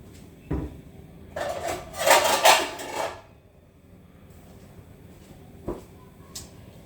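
Plates and dishes handled in a home kitchen: a sharp clatter, then a few seconds of scraping and rattling crockery, followed by quieter single knocks, no talk.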